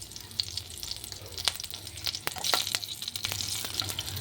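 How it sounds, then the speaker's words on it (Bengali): Slit green chilies and black cumin seeds sizzle in hot mustard oil in a pan, a steady crackling fry with sharp pops and spits, close and fairly quiet, with no talking. "তেলে 2টো কাঁচা লঙ্কা চিড়ে দিয়ে দিচ্ছি।"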